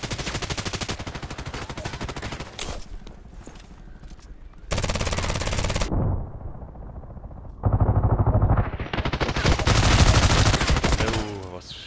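PDR-C submachine gun fire in Contract Wars on the Bay 5 map, several loud close bursts of rapid automatic shots separated by quieter pauses, with game ambience between them.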